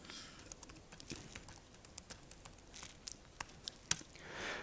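Someone types code on a computer keyboard in quick, light, irregular clicks, soft and fairly close, with no talking.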